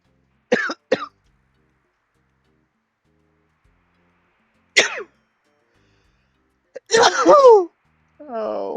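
Two quick sneezes, one after another, a short sharp burst a few seconds later, then a louder drawn-out sneeze or cough and a brief murmur, all close by with silence between.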